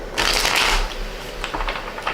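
Tarot cards are riffled in a quick, crisp burst, then a few softer flicks and taps of the deck follow, close and clear with no talking.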